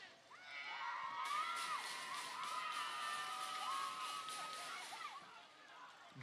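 Rugby crowd at a Nile Special Rugby Premier League match between KOBs and Walukuba Barbarians, excited shouts and cheers swelling steadily for several seconds, with high children's yells mixed in and a commentator's voice over the top.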